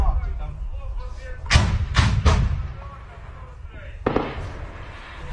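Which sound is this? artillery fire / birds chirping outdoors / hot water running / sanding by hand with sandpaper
artillery fire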